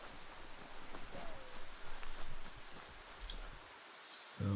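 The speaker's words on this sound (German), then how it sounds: "Schönes Regenwetter." Steady rain falls in the video game Biomutant, a soft continuous hiss that holds across the scene, with a brief louder burst and a low thud near the end.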